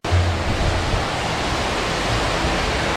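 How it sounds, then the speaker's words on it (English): Loud, steady roar of rushing water fills a crowded water park, a dense wash of sound that stays constant throughout with no distinct voices standing out. "I took this footage of me sitting in the water park, and just listen to how loud it is."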